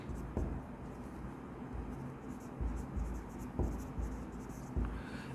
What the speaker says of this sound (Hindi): यहाँ पर हम लिख देते हैं, सीधा ऐसे लिखते हैं यहाँ पर इन्वेंट्री।